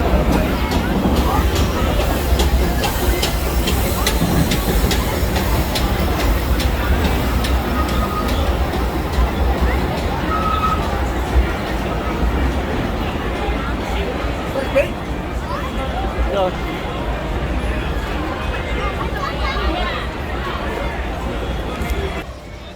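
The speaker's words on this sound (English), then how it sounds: "never miss a chance to catch the Disneyland Railroad go by" The Disneyland Railroad train rumbles past at the theme park, a continuous rolling clatter lasting over twenty seconds beneath crowd chatter and nearby voices.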